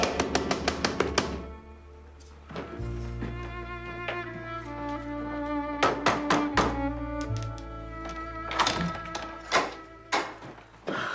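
Sharp knocks and thuds land in irregular clusters, likely someone pounding on a door, loud and close over low sustained music, with no clear speech in between.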